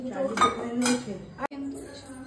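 Dishes and cutlery clink repeatedly while food such as chutney and meat is served at a lively family gathering, several bright knocks of utensils against plates with voices murmuring in the background.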